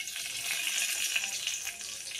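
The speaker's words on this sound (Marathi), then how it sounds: "ह्यात आपण सुरुवातीला तमालपत्र 2 घालूया" Two bay leaves crackle in hot oil in a pan for a pea curry, giving a steady high-pitched sizzle with no talking.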